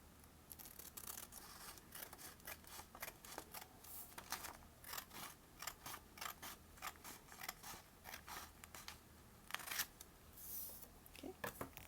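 Scissors snip through paper for a pinwheel in a quiet room, a long run of close, faint crisp cuts and rustles coming in irregular bursts.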